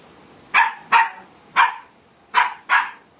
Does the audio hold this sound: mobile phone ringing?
no